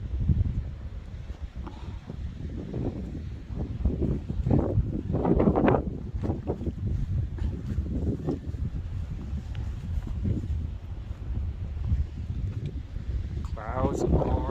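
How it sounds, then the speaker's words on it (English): Strong gusting wind on a cold morning in the Grayson Highlands, Virginia, buffets the microphone with broadband rumble throughout, rising and falling in surges, with a faint voice near the end. "It is an impressively cold and windy morning."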